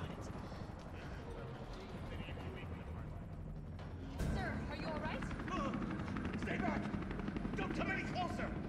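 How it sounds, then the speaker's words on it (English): Helicopter in the Resident Evil 3 Remake video game, a steady rotor drone that swells louder midway through, running under game dialogue and action effects. "There's a helicopter waiting to take you to safety."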